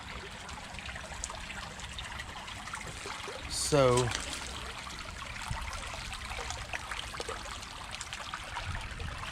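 A rocky creek flows steadily with a broad, close rushing and trickling wash, running higher than usual over newly shifted stones, while someone briefly speaks over it and a short chirping sound rises near the middle.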